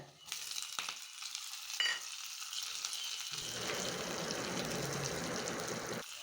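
Mustard seeds, urad dal and curry leaves spit and crackle in hot oil, a dense sizzling that swells and continues steadily, close up.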